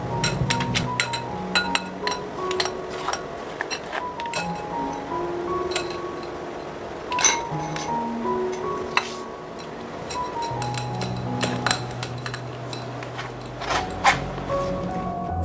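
Potatoes being mashed in a bowl, heard as a long run of scattered clinks, taps and scrapes of utensil against dish at close range, irregular and fairly quiet with no talk.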